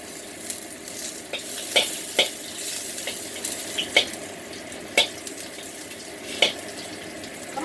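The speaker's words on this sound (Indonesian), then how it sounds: "Kita goreng jahe sampai wangi ya, wanginya keluar." Ginger frying in a pan with a steady sizzle, broken by repeated sharp scrapes and clicks of stirring at an irregular rhythm, heard close and without any talk.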